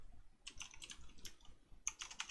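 Quick bursts of clicks come from a computer keyboard, two clusters of keystrokes separated by a short pause, close but fairly quiet over faint room noise.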